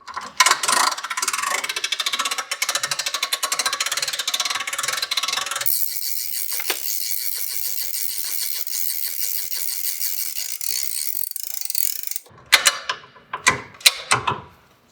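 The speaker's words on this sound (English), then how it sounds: "They wanted to make me work harder today, so we're going to have to do the manual crank here" A manual crank raises the roof of a Rockwood tent camper: close, rapid ratcheting clicks and mechanical rattling for about twelve seconds, then a few louder separate clanks and knocks as the cranking stops.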